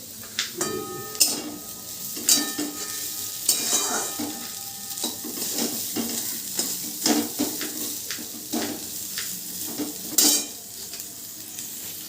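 Potato peels frying in a pan, stirred with a utensil: a steady sizzle runs throughout, punctuated by repeated scraping clinks of the spoon against the pan, close and fairly loud with no talking.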